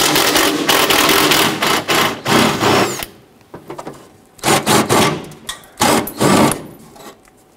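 A ratchet or socket wrench rapidly clicking as 13mm bolts are loosened and removed from the front fender of a 1997-2006 Jeep Wrangler, loud close bursts of ratcheting separated by short pauses.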